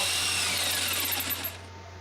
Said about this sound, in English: here's a jigsaw cutting, and oh no! That blade is dull.